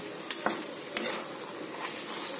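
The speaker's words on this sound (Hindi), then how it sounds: "अब हम इसे मिक्स करके अच्छे से चला लेंगे।" Eggplant curry sizzles while being stirred in a frying pan, with a few sharp spoon scrapes against the pan over a steady hiss, no talking.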